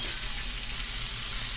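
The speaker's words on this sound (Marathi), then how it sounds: "कांदा परतत आहे आपला" Chopped onion sautés in a hot pan for paneer masala, a dense, steady sizzle that stays even and loud throughout.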